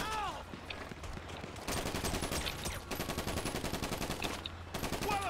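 Rapid automatic gunfire from Grand Theft Auto V fills the scene, near and loud in sustained bursts with brief gaps, layered with game ambience and occasional faint voices.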